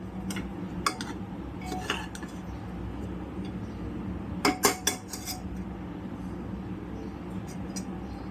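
A spoon scrapes and clinks against a pot while vegetable pulao rice with ghee is gently mixed, a few sharp metallic taps standing out over a low steady background hum.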